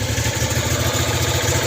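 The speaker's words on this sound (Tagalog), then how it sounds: "manda na yung makina natin guys." Multicab with a Suzuki F6A engine running just after a hard start with a faulty starter, a loud close idle with a fast, even pulsing beat.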